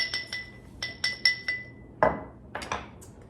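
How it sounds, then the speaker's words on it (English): Basil is muddled in the bottom of a cocktail glass: a series of sharp, ringing glassy taps in an uneven rhythm, ending in a few duller thuds, close and clear. "I'm going to muddle some basil in the bottom of this cocktail glass."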